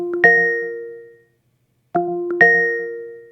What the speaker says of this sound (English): the notification, this is the sound you may typically hear